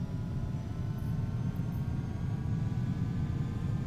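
In the X-Plane 11 flight simulator, airliner engines hold a steady, loud low roar and rumble as they build toward takeoff power, with no voices over it.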